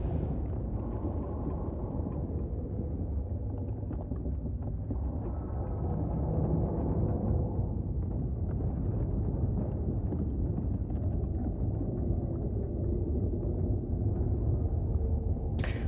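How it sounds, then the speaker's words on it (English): The Indra explodes in the space game Elite Dangerous with a long, low, rumbling roar that surges and churns for about sixteen seconds, loud and alone, with no talking. "Everyone loves a good explosion."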